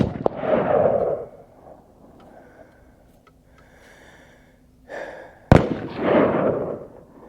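Two sharp rifle shots at a shooting range, each a loud close crack with a rumbling tail, separated by a few seconds of quiet with faint movement between.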